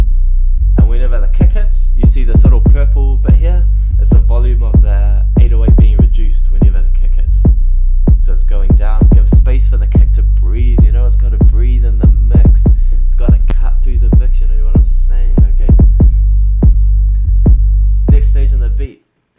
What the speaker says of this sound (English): There's a compressor on the 808, and whenever the kick hits, you see this little purple bit here. It's the volume of the 808 being reduced.